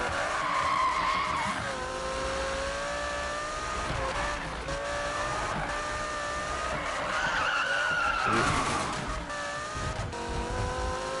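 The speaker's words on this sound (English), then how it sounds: "the Huracan's a beast at drifting" A Lamborghini Huracan drifts in Need for Speed, its engine droning steadily while the tires squeal and skid in long, wavering screeches that rise and fall throughout.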